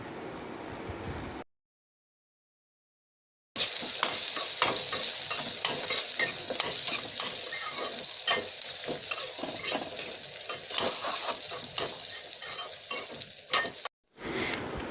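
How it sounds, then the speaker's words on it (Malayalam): Split moong dal roasting in ghee in a pan for Kerala parippu payasam, a steady close sizzle with frequent scraping stir strokes running throughout, interrupted by a brief gap near the start. "ഇനി ഇതിലേക്ക് ഡ്രൈൻ ചെയ്യാൻ വെച്ച ചെറുപയർ പരിപ്പ് ഇട്ട് കൊടുത്ത് നല്ലൊരു ഗോൾഡൻ കളറൊക്കെ ആവുന്നവരെ വറുത്തെടുക്കാം"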